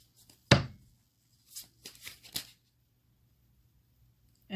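Tarot cards shuffled by hand in a quiet room: one sharp card slap, then a few soft riffling bursts, close and faint, with no talking.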